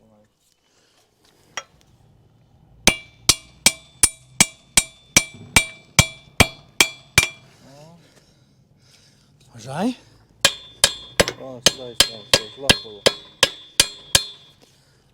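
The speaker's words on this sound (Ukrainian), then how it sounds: "Може там поштуркати молотком треба" Sharp metallic hammer taps in quick regular runs, about a dozen strikes per burst, ringing and close, with a brief voice and clatter between runs.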